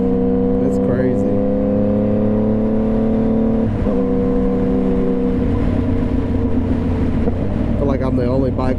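A motorcycle engine droning steadily while riding through big-city traffic, with a shift in engine pitch midway and a rider talking over the ride; the engine is close and continuous.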